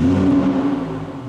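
Lamborghini STO supercar engine fired up and revving, a loud, close rumbling roar with a strong low tone that swells and then eases slightly, heard alone without talk.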